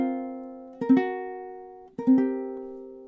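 A ukulele plays one measure of a song from Willy Wonka: two plucked chords struck about a second apart, each ringing out clearly and slowly fading, played alone with no talking.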